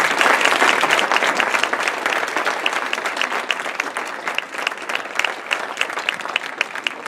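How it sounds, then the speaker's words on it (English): Sustained audience applause for candidates at an SHSU forum: dense, steady clapping from a full room that stays loud throughout with no talk over it. "let's give the candidates one more round of applause."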